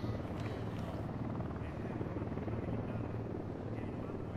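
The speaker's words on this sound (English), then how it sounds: "Fucking helicopter's flying above us." A helicopter flying overhead in the video game Ghost Recon Wildlands, its rotor a steady close throbbing drone that fills the whole stretch without a break, with people talking faintly underneath.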